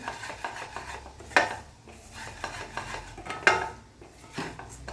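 Dry fruits roasted in a kadai for Surat-style ghari, a spoon scraping and knocking against the metal pan in sharp clinks at irregular intervals over a soft sizzling background, without any talk.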